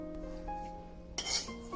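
A spoon stirs tempering into ginger chutney in a pan, with soft scraping and a few metallic clinks of utensil against the vessel, close and clear, ending in a brief rougher scrape.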